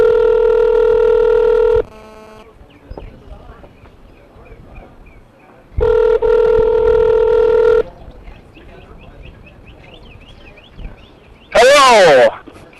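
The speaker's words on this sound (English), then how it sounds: "Let's take the chance now to call Scott Mandrell on our cell phone here" A cell phone call is placed during a morning horse ride, with loud, steady electronic tones repeating in long two-second bursts, quiet background noise between them, and a sharp warbling electronic chirp near the end.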